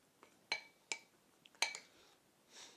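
A spoon clinks against a bowl while mixing mozzarella and soppressata for risotto, with four sharp, bright taps spaced irregularly, then a softer scraping stir at the end, close and fairly quiet.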